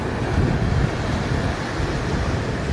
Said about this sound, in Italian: Noi vi portiamo in spiaggia per farvi ascoltare un po' il suono del mare